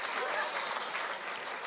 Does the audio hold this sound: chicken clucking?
no